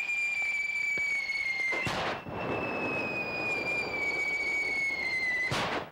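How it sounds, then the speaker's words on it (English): Simulated artillery and weapons fire during army field training on a hilltop: two sharp, loud bangs about four seconds apart, each trailing into a rumbling echo, over a steady high whistling tone. "Simulated artillery and weapons fire resonate around the hilltop."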